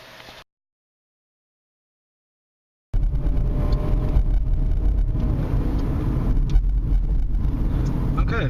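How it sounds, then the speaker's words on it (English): A car driving at night, heard from inside as a steady low road and engine rumble after a brief gap of silence, with a faint voice near the start. "So I'm going to go take a night drive just to check how it is out on night driving"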